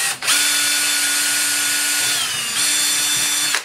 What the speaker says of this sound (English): the drill comes out for the last time, because I've got to now drill through the body